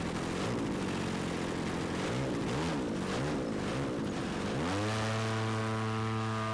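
An RC L-4 Grasshopper model plane powered by a DA35 gas engine drones loudly overhead, its buzzing pitch wavering as it passes, then settling into a strong steady whine with clear harmonics as it closes in.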